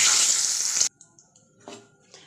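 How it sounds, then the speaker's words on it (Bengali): Whole cumin seeds and a bay leaf hit hot oil in a kadai, giving a loud, bright sizzle that cuts off abruptly, followed by a few faint crackles and pops. "আর এই যে গোটা জিরেটা আমি এর মধ্যে ফোড়ন দিয়ে দেবো, আর একটা তেজপাতা দিয়ে দেবো"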